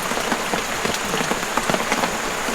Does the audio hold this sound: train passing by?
no